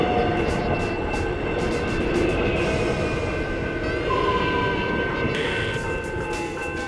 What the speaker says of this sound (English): Clearly this train is faster than the car on the freeway